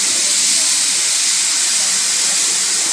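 An airbrush sprays paint onto a hard hat in a Dallas Cowboys theme, giving a steady, close, bright hiss of air that continues without a break for a few seconds.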